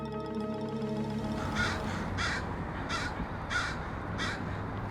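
Thousands of crows gathering at sunset on the University of Washington Bothell campus, with a steady chorus of caws repeating about every second over a dense, noisy background of distant birds.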